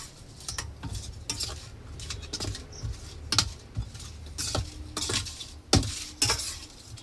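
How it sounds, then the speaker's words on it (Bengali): Raw fish is worked by hand with salt, turmeric and chili powder in a bowl beside a pan of heating oil, producing irregular close wet squelches and dish knocks in short bursts. "ভালো করে মাছটা মাখিয়ে নিই।"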